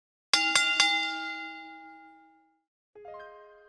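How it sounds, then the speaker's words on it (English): Bell rings three quick times with a bright metallic clang, long sustained ringing tones fading out, followed after a short silence by a fainter single strike, in the intro of a wrestling games show. "Now ring the bell!"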